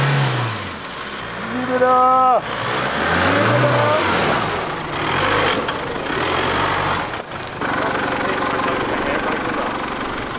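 Holden Colorado ute engine revving in rising and falling surges, close by and fairly loud, with people talking and calling out over it.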